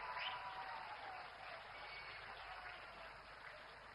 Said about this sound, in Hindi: तालियां होती रहे आपकी ओर से।